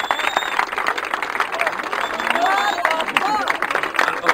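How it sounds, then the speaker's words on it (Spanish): Audience at a rap battle clapping and cheering, a busy mix of applause and crowd shouting that stays loud throughout, with voices calling out over it. "¡Aplausos!"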